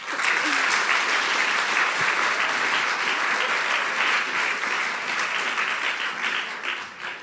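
Sustained audience applause and clapping for a team at a national grand final event, a dense steady wash of many hands that fades slightly toward the end.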